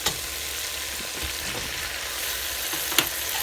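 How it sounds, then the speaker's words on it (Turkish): Green beans sauté in a hot pan while being stirred, giving a steady close-up sizzle with occasional clinks and scrapes of the spoon. "5 dakika boyunca fasulyelerimi kavurdum"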